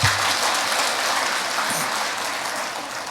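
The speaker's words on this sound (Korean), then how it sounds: "격려의 박수 한번 하겠습니다" Congregation applauding during a Friday church service, a dense sustained burst of many hands clapping from the outset that stays even and gradually eases slightly, heard alone without speech.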